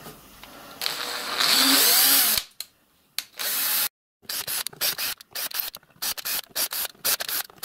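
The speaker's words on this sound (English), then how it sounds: "Just going to run the 4BA tap through these holes now." A 4BA tap cutting threads into metal holes on a model steam locomotive water tank grinds steadily, then breaks into short, repeated rasping bursts with brief silences between them, close by.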